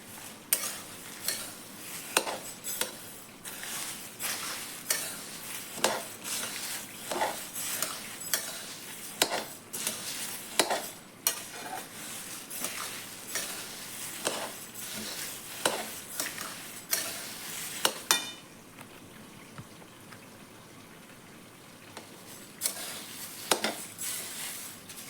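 A spoon stirs bay leaf through onion garlic masala sizzling in a pan, with repeated sharp scraping clatters at an uneven rhythm over a steady low fry, close and fairly loud, quieter sizzle near the end.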